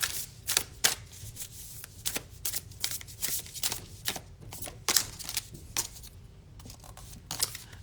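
Tarot cards being shuffled before one card is drawn: repeated crisp riffling and slapping bursts in an uneven rhythm, close and fairly quiet, with no talking.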